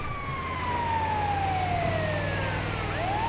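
A wailing ambulance siren in GTA V sweeps steadily downward over a constant engine rumble, loud and close, with no speech.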